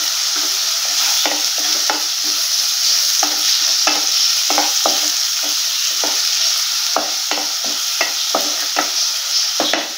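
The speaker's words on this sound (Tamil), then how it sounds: "மீடியம் ஃப்ளேமில் வச்சு நல்லா வதக்கி விட்டுக்கோங்க" Onion and garlic sautéing over medium flame in a pan for egg rice, a steady loud sizzle broken by frequent scraping strokes of a spoon stirring, close and without talk.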